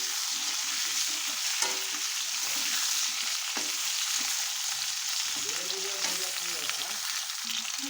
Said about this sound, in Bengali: এখন আলুগুলো আগে লাল করে ভেজে নেব।